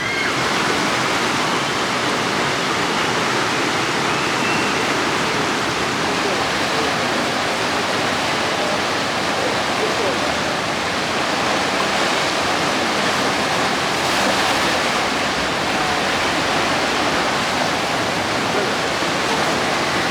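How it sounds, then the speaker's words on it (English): Water rushes loudly and continuously through the rapids ride at Drayton Manor theme park while it cycles empty, a close, unbroken roar of churning water. "the Rapids are cycling empty at the minute"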